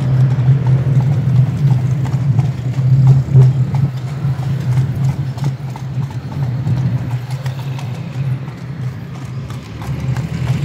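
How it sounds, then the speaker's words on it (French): Hooves of a horse pulling a carriage clip-clop along the streets of Marrakech's old medina, a steady close rhythmic clatter over a low engine-like hum of surrounding traffic. "on fait un petit tour de calèche"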